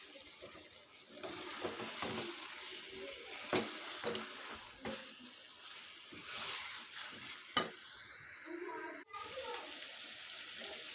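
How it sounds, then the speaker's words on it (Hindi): Capsicum is stirred into chicken curry in a sizzling pan, with a steady fry hiss and repeated sharp scrapes and clinks of a spoon against the pot, moderately close; a voice talks faintly under the cooking. "अब हम डालेंगे शिमला मिर्च और इसे अच्छे तरीके से मिक्स करते हैं।"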